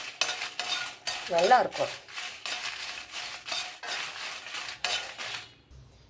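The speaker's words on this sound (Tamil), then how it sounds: "நம்ம மிளகா வறுக்கணும்ல, அதனால் கொஞ்சம் எண்ணெய் போட்டு நல்லா வறுத்துக்கலாம்" Dried red chillies crackle and rattle as they are stirred in a little hot oil in a pan, a series of scraping strokes in a steady rhythm, close and clear, with a brief spoken word in between.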